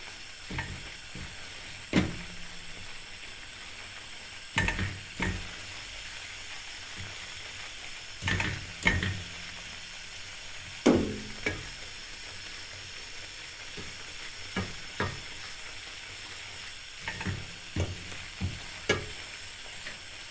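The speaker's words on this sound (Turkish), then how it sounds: "Kızarmaya başladı irmiğimiz." Semolina for Turkish helva fries in a pan with a steady soft sizzle, while a spoon or spatula scrapes and stirs it in irregular strokes, with several sharper clacks against the pan.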